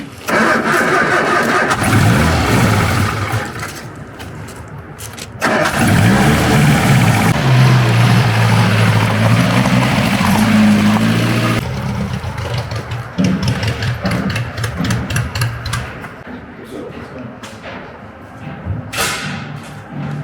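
An Austin-Healey Sprite's engine cranks and fires, then settles into a loud, rough idle with some revving and a few thumps nearby, and no talking.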